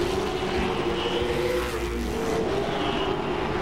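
Late model race cars roar around Langley Speedway in a continuous loud engine drone, with a car passing near the middle of the stretch.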